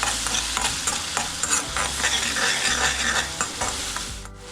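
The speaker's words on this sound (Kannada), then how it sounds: "ಸೊ ಮನೇಲೇ ಫ್ರೆಶ್ ಆಗಿ ಮಾಡಿರೋ ಶುಂಠಿ ಬೆಳ್ಳುಳ್ಳಿ ಪೇಸ್ಟ್ನು ಹಾಕೋತಾ ಇದ್ದೀನಿ. ಸ್ವಲ್ಪ ಫ್ರೈ ಮಾಡೋಣ." Fresh homemade ginger garlic paste fries with cumin in a pan for chole masala pulav, under a constant sizzle broken by repeated scraping stirs of a spoon against the pan.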